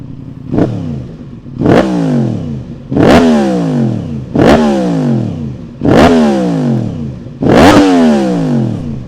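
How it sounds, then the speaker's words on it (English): A Yamaha MT-10 motorcycle engine revs hard six times in a row, each blip rising sharply and falling back to a rough idle, loud and close. "we'll give this a couple of revs"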